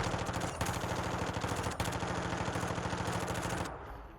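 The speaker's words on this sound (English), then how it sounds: "that's shooting really straight, okay? So I've opted for this version of an MP5." An MP5 submachine gun firing in Warzone 2, a steady rapid stream of shots sustained for nearly four seconds, loud and continuous with a couple of brief breaks, then stopping abruptly.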